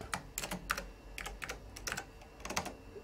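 Typing on the built-in keyboard of a 1989 Apple Macintosh Portable, a quick irregular run of crisp key clacks, close up and quiet, with no talking.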